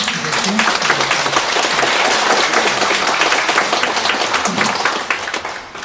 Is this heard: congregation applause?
yes